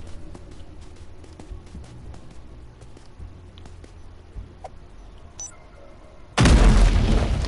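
A grenade explodes in the video game Tamarin: quiet scattered taps and footsteps lead up to a sudden loud, close blast with a long rumbling tail.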